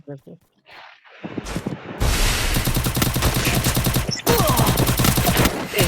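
Rapid automatic gunfire from the Free Fire video game bursts in dense, loud volleys, with short pauses between, after a few quiet moments.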